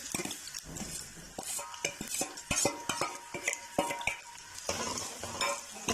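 Onions frying in a pan after whole cumin seeds were toasted in the oil, with a steady sizzle broken by repeated scraping and clinking of a spoon stirring against the pan, close and moderately loud with no talking.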